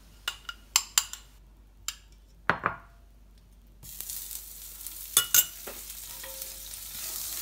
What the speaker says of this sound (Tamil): ஒரு டவா வச்சுருக்கேன். இது வந்து கொஞ்சம் பட்டர் போட்டுக்கலாம்.